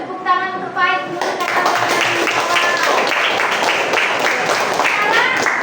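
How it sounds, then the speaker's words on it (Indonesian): After a few sung or chanted syllables, a classroom of students breaks into hand clapping that starts abruptly and continues as a busy, close patter, with children's voices mixed in. "kita beri tepuk tangan untuk Pak Ik dulu"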